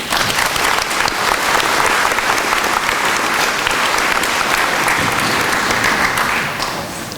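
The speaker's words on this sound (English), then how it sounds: "Could we hear a round of applause for the girls?" An awards night audience gives a warm round of applause for two girls, thick sustained clapping close and loud from start to finish, tapering slightly at the end.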